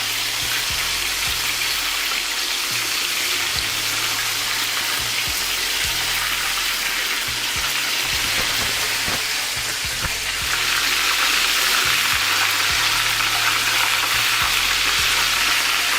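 Chicken pieces fry in hot oil for the first round of a crispy fried chicken recipe, giving a steady, dense, close sizzle that runs the whole way and swells a little louder toward the end, with no talking.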